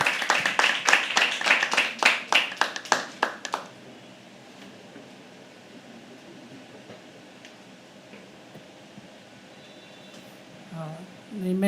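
Audience at a live poetry open mic claps briskly and loudly for about three and a half seconds, then the clapping stops abruptly, leaving quiet room ambience with a few faint sounds near the end.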